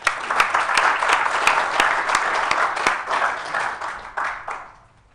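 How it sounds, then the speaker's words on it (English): An audience at a WordPress community conference in Johannesburg applauds, with several sharp individual claps standing out above the crowd before the clapping thins and fades out near the end. "Let's give them a round of applause."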